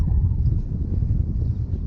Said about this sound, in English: It's kind of windy, of course.